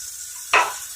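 Water poured into a big pot of tomato gravy: a sudden splashing gush that rises sharply, then tapers into a softer wash within half a second, heard close and on its own.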